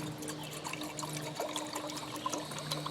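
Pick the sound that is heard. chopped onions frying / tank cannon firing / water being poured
water being poured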